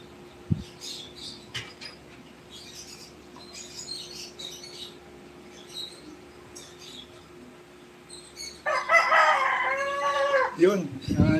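A rooster crows loudly and close by near the end, a drawn-out call rising over a quiet background with faint earlier sounds.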